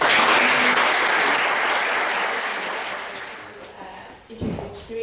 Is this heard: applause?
yes